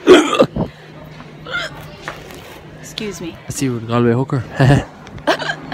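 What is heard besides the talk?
hiccups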